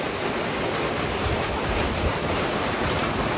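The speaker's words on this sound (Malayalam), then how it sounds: "ചീറ്റിന്റെ മുകളിൽ നിന്ന് വരുന്ന വെള്ളം കേട്ടാ." Heavy monsoon rain runs off a roof sheet in a steady, dense wash of broadband noise, loud and close with no pauses and no voices.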